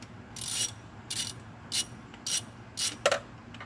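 A torque wrench ratchets a carburetor bolt on a 1974 Ford F-250 in five or six short, crisp clicking bursts in an uneven rhythm, close by in a quiet garage.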